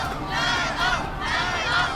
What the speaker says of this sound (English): You can hear that, the rambunctious crowds.